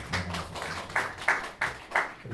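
A church congregation applauding during a Korean Presbyterian Sunday worship service, a short burst of claps in uneven pulses that stays moderately loud and close throughout.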